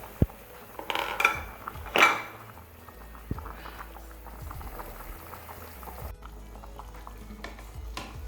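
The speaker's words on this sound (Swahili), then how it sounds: "Maji yashachemka, kwa hiyo sasa tutafunua, afu tutaweka mchele." A pot of water at a rolling boil for meat pilau bubbles steadily, with a few sharp metallic clanks of the lid and pot early on, then a quieter simmer.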